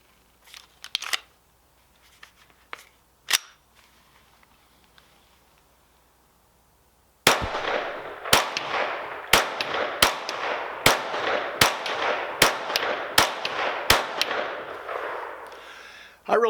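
Rifle shots from a CMR 30 firing 40 grain ammunition: a few scattered sharp cracks, a quiet pause, then a steady string of about a dozen loud, evenly spaced shots outdoors.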